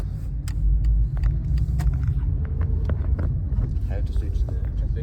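A car engine rumbles low and steady on the drive to a car show in Germany, with small clicks and bumps from inside the cabin throughout.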